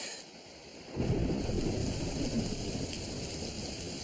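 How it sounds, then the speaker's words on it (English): A heavy rain downpour in the mountains starts abruptly and then roars steadily, a dense close hiss with no voices. "I just had a huge downpour of rain"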